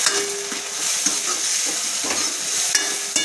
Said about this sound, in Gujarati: બધું થોડીક વાર સાંતળવા દઈશું।